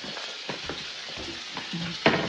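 Food frying in a pan in a home kitchen, a continuous close hissing sizzle with a few clinks and scrapes of utensils against the pan, no talking.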